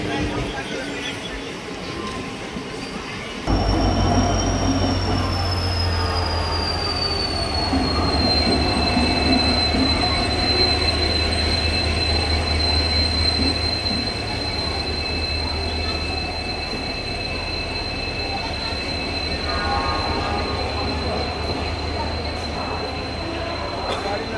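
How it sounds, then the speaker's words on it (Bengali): A local train rolls into platform 1 at a station, a loud, close rumble joined by long, high wheel squeals that hold steady for most of the pass, with faint voices nearby. "10:07 আর 1 নম্বর প্ল্যাটফর্মে দিচ্ছে আমাদের লোকাল ট্রেন"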